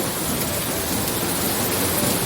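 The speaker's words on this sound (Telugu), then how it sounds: "హైదరాబాద్లో వర్షం ఫుల్గా పడుతుంది" Steady, dense downpour of heavy rain in Hyderabad, a constant broadband hiss with no pauses and no voices.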